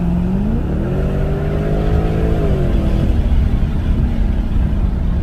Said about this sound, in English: if you want to give your car a little bit of a growl and a nice little mean tone to it